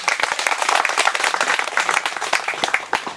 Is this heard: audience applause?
yes